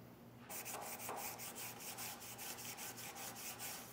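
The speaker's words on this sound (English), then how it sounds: "Got that sanding done." Outdoor furniture is sanded by hand in quick, even back-and-forth strokes, a faint, rhythmic rasping that repeats steadily throughout with no talking.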